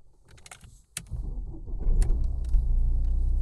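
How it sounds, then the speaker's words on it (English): Inside a Mercedes-Benz A-Class, a few clicks and jingling key sounds come first, then the engine cranks and catches at about one second and settles into a close, steady idle rumble. "Start the vehicle."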